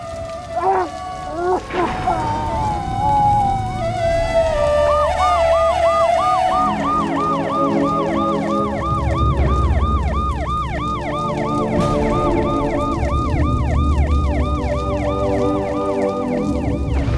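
A loud wailing ambulance siren cycles rapidly up and down, close by, with traffic rumble and scattered voices underneath.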